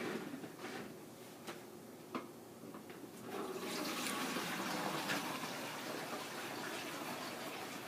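Homemade kefir poured through a plastic strainer: a few light drips and splashes build into a steady, rushing gush of liquid that continues to the end.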